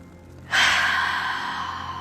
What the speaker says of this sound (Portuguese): Inspira mais uma vez.